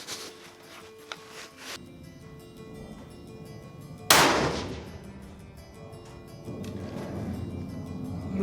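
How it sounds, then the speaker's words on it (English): A single sharp, loud rifle shot from a Tikka T3x Tac A1 fired off a bipod with S&B ammunition, cracking out after a quiet outdoor stretch and ringing away over several seconds. "first round of bipod shooting with our junk S&Bs"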